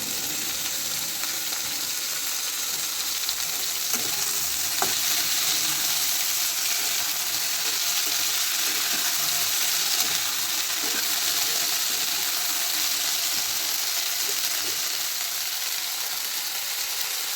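Eight kinds of mixed vegetables fry in a pan with ginger paste and spices for a Bengali vegetarian curry, giving a steady, close sizzle throughout with faint stirring and no voices.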